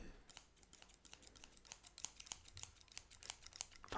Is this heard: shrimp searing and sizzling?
no